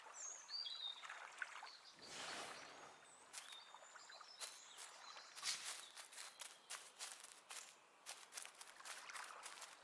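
Scattered bird chirps and tweets in the fantasy game The Last Campfire, short bright calls over a quiet forest ambience with soft footstep-like shuffles, moderately near and never loud.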